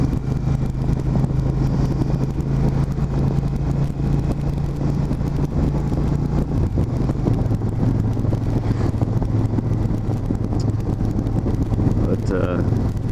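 A shaft-driven 1600 V-twin cruiser motorcycle rumbles steadily while being ridden, a continuous low engine drone with wind noise, the pitch shifting slightly partway through as the revs change, with a voice talking over it.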